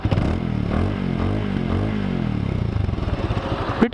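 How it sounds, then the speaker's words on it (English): A 2018 Bajaj Avenger Street 220 motorcycle engine idles and revs up close by, a steady low rumbling exhaust with pulsing throttle changes, ending in a brief clatter. "the exhaust note, as you can listen"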